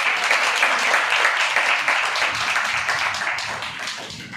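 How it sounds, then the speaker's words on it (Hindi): A church congregation claps for God, dense and loud applause from many hands that continues steadily before slowly thinning out toward the end. "यहां पे परमेश्वर के लिए ताली बजाएंगे"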